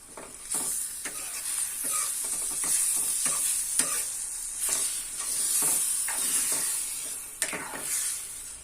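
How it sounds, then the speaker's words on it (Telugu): Tomato egg curry stirred in a pan with a spoon, giving a continuous close sizzle with repeated scraping strokes at a steady rhythm. "ఇప్పుడు నేను స్పూన్ పెట్టి తిప్పుతా"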